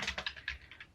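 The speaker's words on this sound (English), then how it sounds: "If I start typing it, will it come up?" Typing on a computer keyboard, a rapid, close run of about eight soft, even keystrokes heard alone without talk.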